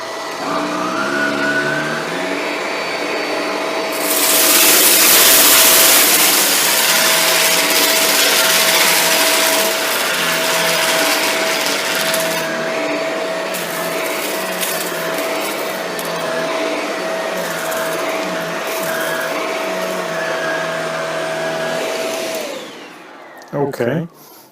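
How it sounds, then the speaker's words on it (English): A Shark Rotator Lift Away Speed NV682 vacuum cleaner runs continuously as it picks up debris, with a loud, steady motor whine and a rough burst of rattling suction partway through before it cuts off at the end. "Sometimes you have to lift the vacuum up a bit on the backstroke to get the nozzle over top of some debris"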